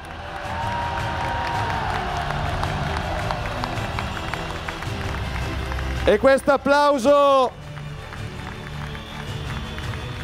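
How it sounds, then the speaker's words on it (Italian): A crowd packed into a Milan square at a StopInvasione rally applauds and cheers for Umberto Bossi, a broad roar of clapping and whoops rising through the clip, then a loud amplified voice cuts in briefly near the end. "questo applauso lo dedichiamo a colui che ha iniziato tutto e che ci ha portato fino a qua, a Umberto Bossi!"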